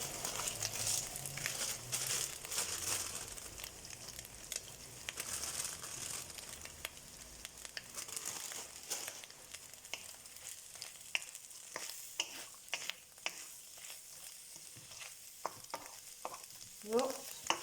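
Bean sprouts stir-fry in a pan for pad thai, giving a steady, fairly quiet sizzle with scraping and tossing clicks that continue throughout without talk.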